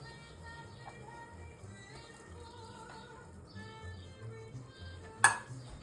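Tomato sauce with broccoli and garlic is stirred in a cooking pot, a steady low scraping and churning with faint sizzle, ending in one sharp utensil clank against the pot near the end.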